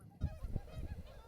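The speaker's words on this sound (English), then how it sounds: "there's some geese in the field. So that's what that noise is." Geese honking in a field beside a road, several loud, close calls in quick irregular succession over a low rumble of wind or traffic.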